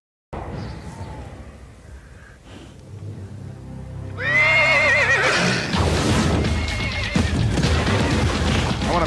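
A horse whinnies loudly up close in a vintage TV commercial, with a long neigh that is followed by heavier crashing and booming sounds. No one speaks over it.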